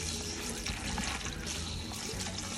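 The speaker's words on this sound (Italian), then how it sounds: "Generalmente li lascio un po' scorrere sotto l'acqua corrente e poi li risciacquo bene." Agretti greens rinsed under a running kitchen tap give a steady, close splashing and rushing of water that carries on without a break and with no talk over it.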